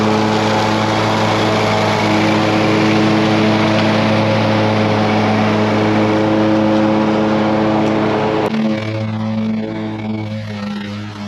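A lawn mower engine drones loudly and steadily at close range during mowing, a continuous buzzing roar that shifts and drops in pitch near the end.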